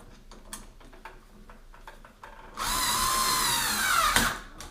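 Cordless power screwdriver driving a screw on a home light switch, a sharp whirring burst of about two seconds after quiet handling clicks, close and loud.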